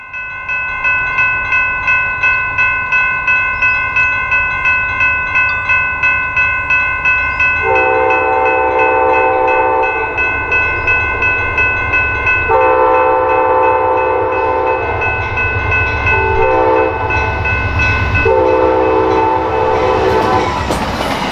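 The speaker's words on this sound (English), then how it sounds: "We start our day with the rare Amtrak P42 leading Amtrak train 351." An Amtrak P42 diesel locomotive leads passenger train 351 on the Michigan Line, sounding its horn in several loud, sustained blasts over the steady rumble and clatter of the passing train, with no voices.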